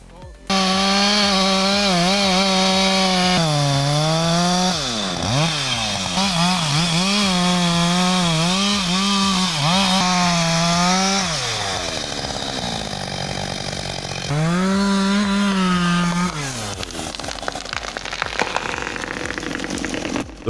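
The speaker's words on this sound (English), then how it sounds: "The Husqvarna 562 XP sounds every bit as strong as advertised" A Husqvarna 562 XP chainsaw cutting through a tree trunk at loud full throttle, its engine rising and falling in pitch with several short dips and bogs as the bar binds, then dropping back to idle near the end.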